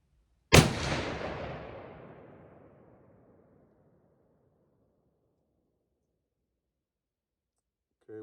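A single loud report from a Winchester Model 670 rifle chambered in .300 Win. Mag., fired while sighting in at a range, with a sharp crack trailing into a long fading echo, then quiet.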